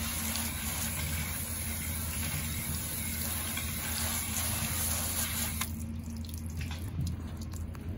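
Running water splashes and rinses over a surface being cleaned with a netted dishcloth, a steady close wash of hiss that thins toward the end with a few drips, no talk.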